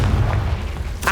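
Spell explosions from the Bombarda and Confringo curses in the video game Hogwarts Legacy: a loud, close booming blast with a low rumble, then a sharp burst at the end of the short clip.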